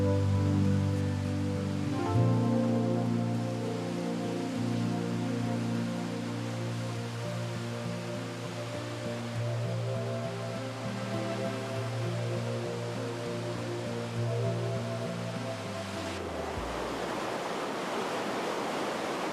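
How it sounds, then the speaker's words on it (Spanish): The Gavarnie waterfall, tallest in Europe, pours with a steady broadband roar of falling water under a sustained musical backdrop, the rush becoming more prominent as the music fades near the end. "La cascada de Gavarnie es la mayor de Europa."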